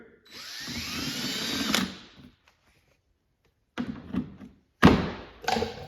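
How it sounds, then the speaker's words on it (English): A power drill whirs for about two seconds, drilling a hole for a fender flare on a Yamaha Rmax2 side-by-side, then pauses; after silence come short bursts of tool noise and knocks, close by. "drill the hole in place just like I did here"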